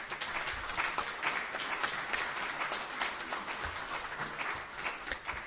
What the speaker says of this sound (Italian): vorrei ricordarla con un grande applauso